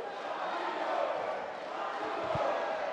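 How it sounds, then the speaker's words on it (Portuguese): A large crowd of fans at a Jungle Fight MMA event roars in a steady, dense wash of cheering, with a commentator's voice faintly mixed in. "E a torcida aí, imensa aí pro lado do Cauê."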